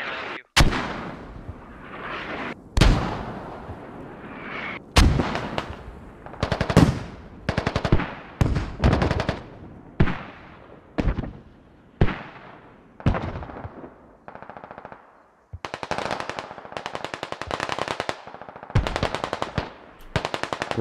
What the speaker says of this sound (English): That enemy mortar's gonna hit all of you.